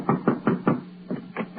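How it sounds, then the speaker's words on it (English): Knocking on a door as a radio show sound effect: six crisp wooden raps, three and then three, close and loud, with a short pause between the sets. "I'll knock."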